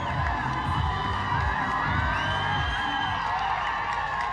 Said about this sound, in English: and look at them cheering